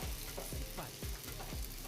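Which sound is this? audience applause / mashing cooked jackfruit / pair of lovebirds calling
mashing cooked jackfruit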